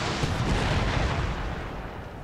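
Rumbling 12-pounder cannon fire in a Napoleonic-era battle from the strategy game Napoleon: Total War, a dense continuous roar of booming volleys that stays loud throughout and fades slightly toward the end, with no speech.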